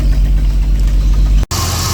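A 1988 Jaguar S3 V12 engine idling after sitting unused for seven years, a loud, steady low rumble with a slight uneven pop, cut by a brief dropout near the end before resuming.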